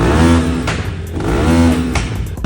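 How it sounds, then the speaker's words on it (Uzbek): A petrol offroad motorcycle engine revs hard twice in a dealership, each loud rising roar falling back to idle, close and alone. "Lekin mana bu offroad mototsikl bor, shunaqa yoqdi. Bitta ovozini eshitinglar."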